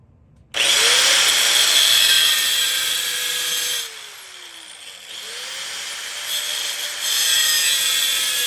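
A power saw cutting a piece of wood in a shop: a loud continuous whining buzz that dips midway as the blade load changes, then rises again, heard close with no talk.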